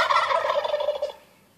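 A turkey lets out a single loud, close gobble, a quick warbling rattle that fades out after about a second.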